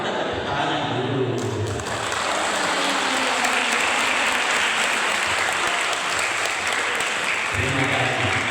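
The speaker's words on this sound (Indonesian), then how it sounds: "Kita tepuk tangan dulu." An audience at a university anniversary gathering bursts into loud, full applause, the clapping building quickly and holding steady, with a voice talking at the start and again at the end.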